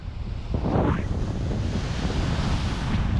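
Ocean surf washes onto an elegant beach at Foz in Portugal, a near wave surging and breaking with a rushing swell under steady wind buffeting the microphone.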